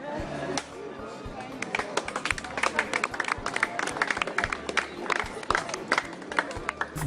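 An audience applauds a sword-swallowing magic trick: scattered, sharp claps ring out over a murmuring crowd and a low steady hum, coming in uneven bursts throughout.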